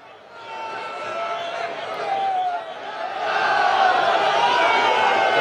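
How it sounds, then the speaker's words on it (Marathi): A devotees' crowd at Jejuri on Somvati Amavasya chanting Yelkot Yelkot Jai Malhar, a dense swelling roar of many voices that grows louder toward the end. "येळकोट येळकोट जय मल्हारच्या गजरानं वातावरण दुमदुमून गेल्याचं दिसतंय"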